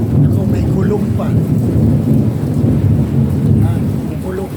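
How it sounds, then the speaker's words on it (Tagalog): Deep rolling thunder rumbles loudly and continuously beneath heavy typhoon rain from Typhoon Carina, the low booms swelling and fading without a break. "Yan, may kulog."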